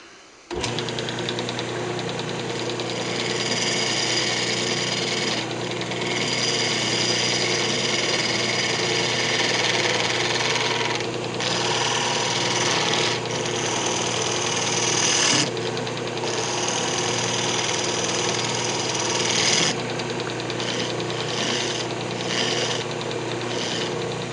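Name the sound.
wood lathe turning a yew box lid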